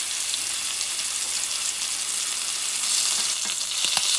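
A beef tenderloin, salted side down, sears in a hot pan with a loud, steady, close hiss of sizzling fat, and a few faint ticks and pops near the end.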